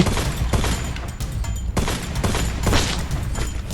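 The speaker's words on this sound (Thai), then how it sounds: "มาดาระยุคใหม่ ใช้ไรเฟิลสับยิง" Rifle fire in a war video game, loud repeated shots in quick bursts with sharp onsets and booming tails, close and continuous.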